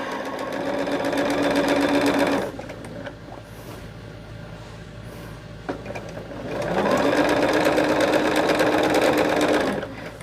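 A sewing machine stitches through a heavy quilt in two loud, steady, whirring runs, close by, with a quieter pause between them.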